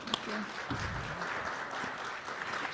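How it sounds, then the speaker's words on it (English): Live studio audience applauding guests at a Native America Calling broadcast at the RES gathering, a steady moderate wash of clapping with a few voices briefly audible underneath. "Let's give them a round of applause."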